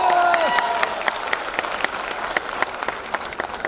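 An audience claps at a business presentation in Patna, a loud burst of applause that thins into scattered individual claps, with a brief voice and tone at the start.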